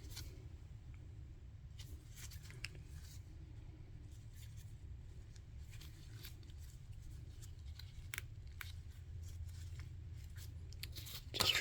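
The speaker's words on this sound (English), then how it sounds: "Just trim these off" Scissors trim an ITB air filter for a Miata, giving scattered faint snips and short tearing cuts over a steady low background hum, with a sharper clip near the end.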